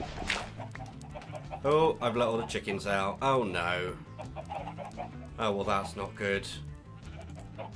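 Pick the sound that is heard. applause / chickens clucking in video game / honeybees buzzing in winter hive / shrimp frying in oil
chickens clucking in video game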